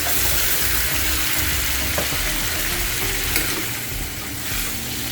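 Kidney beans (rajma) are stirred into hot masala in a pan, giving a steady dense sizzle with scraping and stirring that runs the whole time, close and loud.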